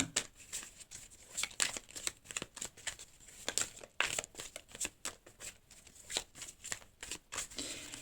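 Tarot cards being shuffled, close and crisp: repeated bursts of riffling and flicking paper slaps in an irregular rhythm, with no voices over them.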